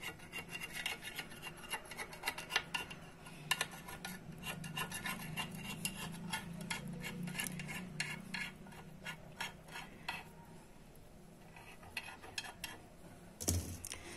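A small spoon mixes semolina dough in a bowl, making a continuous close rasping and scraping in an uneven rhythm. It stays quiet throughout, and a sharper clink comes near the end.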